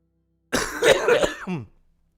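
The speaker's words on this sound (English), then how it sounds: "I thought I muted my mic and then coughed right into it" A single cough and throat clear land right into a close microphone, loud and brief in an otherwise silent moment.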